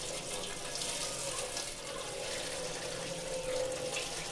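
Tap water runs steadily into a large home-brewing pot being filled with 6.5 gallons for a Bavarian hefeweizen, a continuous close rushing splash with no talking.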